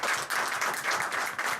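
An audience claps and applauds to welcome a guest at a Pakistani political gathering in Barcelona, a dense, continuous wash of many hands at moderate distance.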